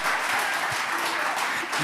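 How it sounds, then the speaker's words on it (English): A room full of audience members breaks into applause for a newly elected county Republican Party chairman, a brief, steady, fairly loud burst of many hands clapping. "And huge round of applause."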